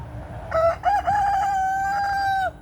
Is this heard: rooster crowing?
yes